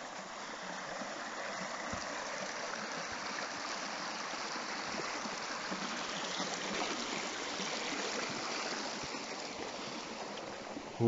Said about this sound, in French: Vous avez bien entendu une rivière qui passe là et qui descend.